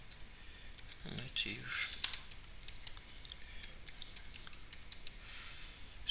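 Keys clatter on a computer keyboard as a command is typed, with a quick run of clicks near the start and steady light taps after, close and fairly faint, with a brief voice at first.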